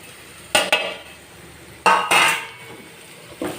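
Grated coconut is sautéed in a pan, with a few distinct metallic clanks and scrapes of a spoon stirring against the pan over near silence.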